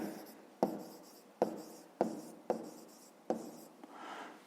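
Numbers are written in brackets during a fifth-grade maths lesson: five crisp, separate strokes of a pen on paper, close and quiet, each with a sharp start and a short fade.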